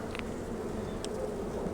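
Honey bees buzz at an open hive during a spring split, a dense, steady close hum of many insects, with a few faint clicks and bumps of hive handling.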